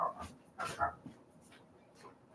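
Several dogs bark and whimper near a front door as a visitor arrives, with a few sharp barks and yips over a brief stretch, a little muffled indoors.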